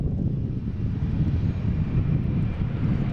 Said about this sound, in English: All right, we have JetBlue here.